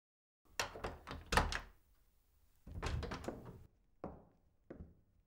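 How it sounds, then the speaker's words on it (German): A wooden house door being opened, heard as a cluster of knocking thunks and rattles, then a longer creaking push and two short, sharp clacks, close and distinct with no talking. "Wir öffnen die Tür zu unserem Haus."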